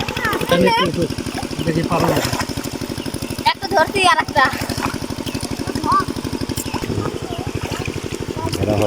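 A water pump engine runs steadily to irrigate a field near a river, its rapid even chugging loud and close throughout, with voices talking over it.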